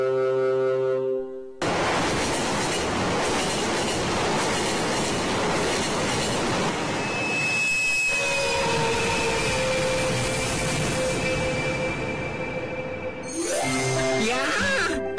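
The Emerald night train rolls steadily along the rails in a loud, continuous rumble and clatter, with a long horn-like tone sounding midway and a brief squeal near the end.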